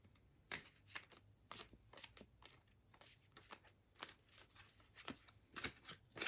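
Tarot cards being shuffled up close, a rapid run of crisp riffling flicks and soft card slaps in an uneven, busy rhythm with no voices.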